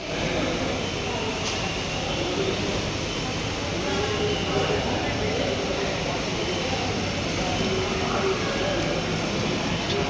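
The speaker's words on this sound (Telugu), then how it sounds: "ఇది స్టేషన్, రైల్వే స్టేషన్." Busy ambience at a railway station with trains, a continuous low rumble and hum of rail traffic with background crowd noise and people talking throughout.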